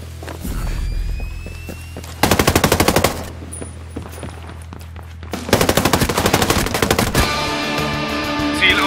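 Two loud bursts of rapid automatic gunfire from the video game Ghost Recon Breakpoint, each lasting about a second, separated by quieter background hum and effects.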